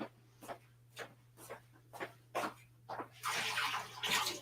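Dirty brush-rinsing water dumped out and a container refilled with clean water: a run of short splashy pours and drips, then a louder, steady rush of running water near the end, close and clear with no talk.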